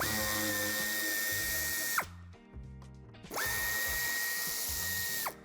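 A power tool spins out the screws holding the bumper in the wheel arch of a Mercedes-Benz Citan. Two loud, close whirring bursts of about two seconds each are separated by a brief ratcheting pause.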